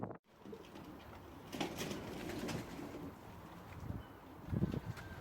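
Fantail pigeons coo softly in an aviary, faint low murmurs scattered under light wind noise and rustling.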